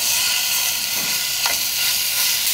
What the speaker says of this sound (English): The biggest mistake people do when they're searing their meat is that they're playing with it too much.